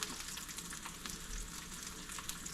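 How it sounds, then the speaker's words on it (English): Trout frying in butter in a pan, a steady, dense sizzle that holds evenly throughout, close and alone with no talking. "before I flip it over, I'm actually gonna add a little bit of butter so I can kind of baste it"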